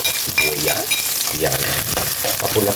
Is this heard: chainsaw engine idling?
no